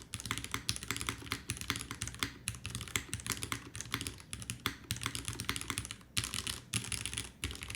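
Typing on a Join65 custom mechanical keyboard fitted with a dust pad: fast, dense, steady clacking of keys at close range, continuous throughout with no talking.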